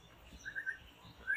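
Short bright chirps of a magpie robin in forest, a few brief calls near the start and end over faint ambient background.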